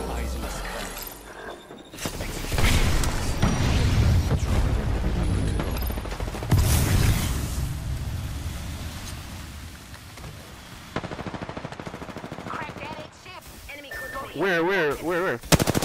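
Video game gunfire in bursts: heavy booming shots and rapid rattling volleys, loud and close, with game voice lines and electronic effects between the barrages.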